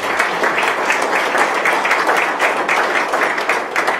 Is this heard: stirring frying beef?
no